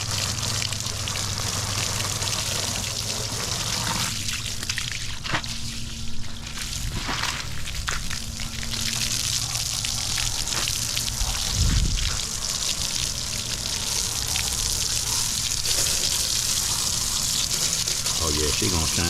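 Water sprays and gushes steadily while rinsing soap off a Honda Goldwing motorcycle, including its mud flaps, a continuous hissing wash from a hose close by with brief splashy bursts.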